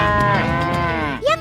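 A cow gives a long, loud, drawn-out moo on a mountain grassland pasture, close by, ending with a short rising call.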